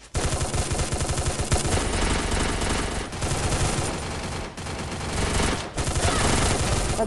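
Rapid, loud automatic gunfire fills the whole stretch in dense bursts with only brief gaps, like a heavy firefight in the game Free Fire.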